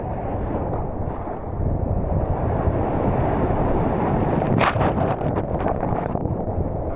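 Sea waves surge and splash onto a beach in Australia, a continuous roar with wind buffeting the microphone and a sharper splash burst near the end.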